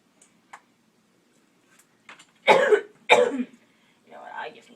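Two harsh, loud coughs from a man in quick succession, with faint rustles before them and a softer throat-clearing sound trailing after.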